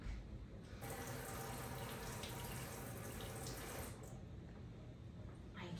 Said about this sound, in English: let me just give my hands a little rinse here